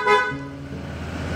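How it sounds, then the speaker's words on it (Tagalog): A PIAA horn fitted to a Honda PCX 160 scooter gives a short, bright tonal blast, loud and close, then cuts off into a low steady hum. "Yan yung busina natin."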